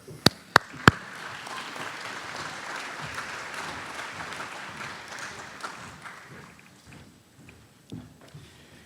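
An audience at a county fair luncheon claps to welcome the mayor, a few sharp close claps first, then a steady wash of applause that fades out over several seconds.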